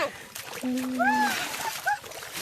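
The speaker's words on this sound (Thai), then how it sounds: "พี่หมอนเขาสาดน้ำเห็นไหมเนี่ย" Water splashed by hand across a flooded rice field where people are catching insects, a continuous wet sloshing under loud, lively talk from a man nearby.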